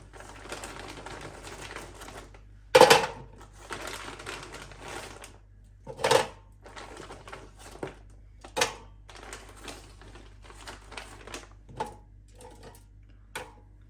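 Frozen sesame chicken pieces drop into an air fryer basket with scattered hard clicks and rattles, a few louder knocks among light tapping, close and otherwise quiet.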